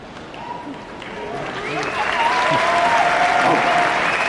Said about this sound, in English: like applause and people clap